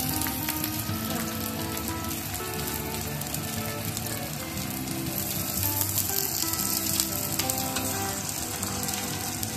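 Winter vegetables dropped into hot oil for chow mein crackle and sizzle continuously, close and dense like rain on a surface, with occasional stirring, no voices.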